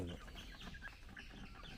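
Faint clucking from chickens, a few short calls scattered over a noisy, low rumbling farmyard background.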